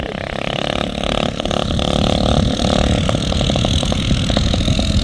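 Several small mini bike engines race together, a dense continuous buzzing roar with steady high revving that swells slightly midway and holds loud throughout.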